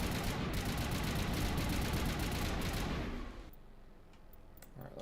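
Rapid gunfire crackles in Mass Effect Legendary Edition, a dense steady stream of shots that drops away after about three seconds, leaving a few scattered sharp cracks over quieter ambience.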